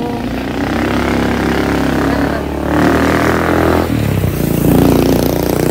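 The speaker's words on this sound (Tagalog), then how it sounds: "may mga dumadaang mga motor dito." Motorcycles ride past along a walking path used daily, their engines a steady nearby drone that swells as each passes, with no talk over it.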